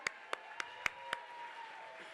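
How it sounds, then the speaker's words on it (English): Five separate, evenly spaced hand claps ring out at a charity gala auction, each sharp and distinct over a faint steady hum, more like a scattered few clappers than full applause. "Can you give them another round of applause, everybody?"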